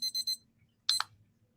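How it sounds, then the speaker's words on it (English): A timer alarm goes off in two bursts of sharp electronic beeps: a quick run of three, a pause, then two more, loud and close in an otherwise quiet room. "that's my timer"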